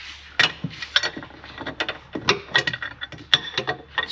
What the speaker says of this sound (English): So I'm going to put a bolt in here just to help align it.